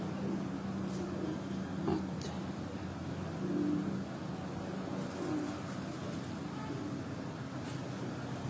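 Domestic breeder pigeons coo softly in low, repeated murmurs on a rooftop loft in Chak Bailey Road, Rawat, with a steady outdoor hum and faint traffic underneath.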